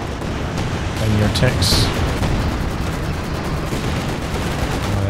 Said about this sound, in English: Artillery barrage coming down.